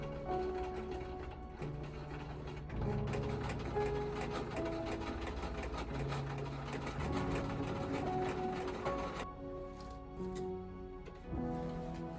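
A sewing machine stitches with a continuous motor whir and rhythmic mechanical pulsing at a moderate, close level, with no one speaking.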